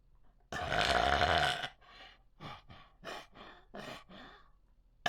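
A person demonstrates an inhaled burp: one long, loud croaking burp, followed by a string of shorter gulping, breathy swallow sounds and a final sharp catch.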